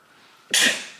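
One sharp, close sneeze bursts out after a quiet moment, a breathy explosive hiss that trails off quickly.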